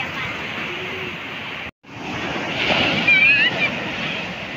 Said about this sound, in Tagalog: Masyadong malakas yung alon dun.